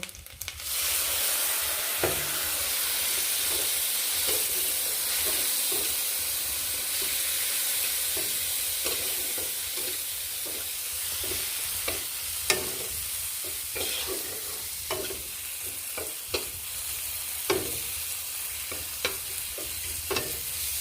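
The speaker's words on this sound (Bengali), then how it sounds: "একটু জল দিয়ে দেবো, দিয়ে এটা একটু কষে নেব।" Ground coriander, chili and turmeric with a splash of water sizzle and sauté in a pan while a spoon scrapes and stirs, giving a steady frying hiss broken by intermittent sharp clicks of the utensil against the pan.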